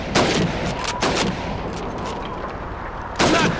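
Old-fashioned gun firing at helmets in an old video game, with three sharp shots spaced across the stretch, the first two close together and a third near the end, over a steady hum.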